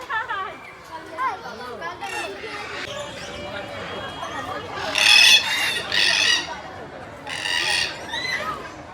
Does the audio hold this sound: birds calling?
yes